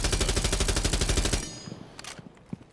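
Rapid automatic fire from an assault rifle in Rainbow Six Siege, a loud, steady stream of closely spaced shots that cuts off halfway, followed by a few scattered softer clicks and thuds.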